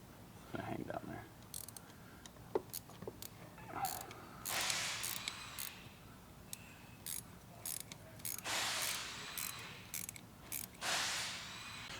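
A ratchet clicks in short, quiet bursts while tightening a solid shifter bushing on a Subaru STI, the pawl ticking close by in a quiet garage with soft creaks between strokes.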